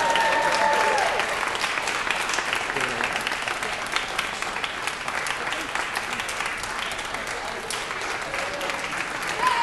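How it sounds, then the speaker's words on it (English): Audience applause at a journalism broadcast awards ceremony as a winner is named, a thick, steady rain of clapping that carries through nearly ten seconds with a few brief whoops over it. "Keep clapping."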